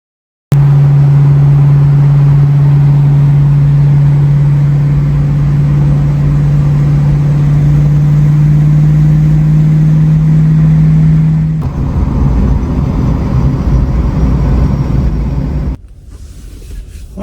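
A 1969 Ford Mustang Mach 1 drives with a loud, steady engine drone and a strong low hum, then shifts into rougher road and wind rumble before settling lower near the end.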